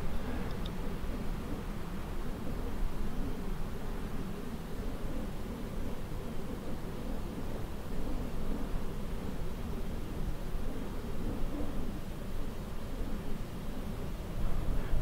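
Constant stormy rushing noise like heavy rain and wind in Microsoft Flight Simulator, flying a Beechcraft King Air 350i along the coast near Galveston, a dense unbroken roar with faint low rumbles throughout.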